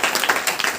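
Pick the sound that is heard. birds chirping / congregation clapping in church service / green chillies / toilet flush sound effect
congregation clapping in church service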